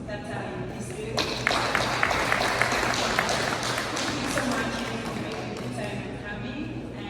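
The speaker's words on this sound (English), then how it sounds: "Can we clap for the youth that are in this building?" An audience at a Ugandan community gathering in Canada breaks into applause for the youth, sudden dense clapping that swells and continues steadily for several seconds, with voices mixed in.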